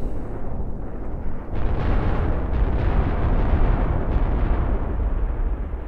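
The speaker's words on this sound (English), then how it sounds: "there you see the ball just exploded" A massive nuclear bomb detonates against a futuristic planet in a space simulation game. After a brief lull, a deep, sustained roaring blast surges up and keeps rumbling loudly to the end, with no voices.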